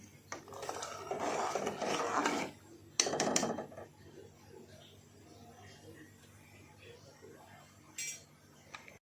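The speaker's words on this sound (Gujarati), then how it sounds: "તેને આ રીતે થોડી વાર હલાવી કાઢીશું" Spice mixture stirred in a pot for instant papdi dough, with scraping and clinking of a utensil against the pot in two bursts early on, then quieter faint rubbing.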